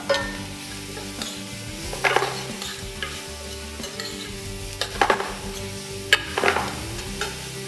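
Vegetables sweat in butter and organic olive oil, a soft steady sizzle underneath while a utensil stirs and scrapes the pan in several distinct bursts, with a couple of clinks.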